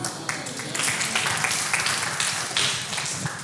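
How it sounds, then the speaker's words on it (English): Applause from a live audience for a Christian spoken-word performer, a dense, steady wash of many hands clapping. It holds at an even level for the whole stretch, with no voice over it. "I didn't think that was a place to put the applause"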